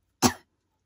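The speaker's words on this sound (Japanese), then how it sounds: "咳が出始めたんでね、ちょっと一旦止めました。" A single short, sharp cough, close and fairly loud, followed by silence.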